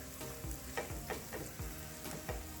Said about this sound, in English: we're gonna make sure we get some nice color on all of these onions